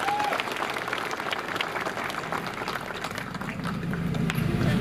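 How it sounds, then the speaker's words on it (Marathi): Crowd at a Marathi political rally breaks into sustained applause for a speech, a steady wash of clapping that swells again toward the end, with no talk over it. "एकदा जोरदार टाळ्या वाजवा त्यासाठी"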